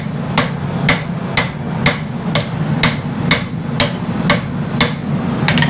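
A power hammer forges a blade, striking in a steady, even rhythm of about two blows a second. The sharp metallic hits are loud and close, over a continuous low mechanical rumble.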